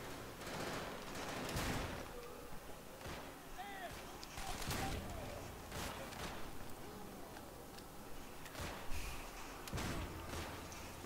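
Repeated gunfire bursts and shots in Call of Duty: World at War, sharp reports scattered across the stretch with a noisy battlefield bed, a voice faintly present in the mix.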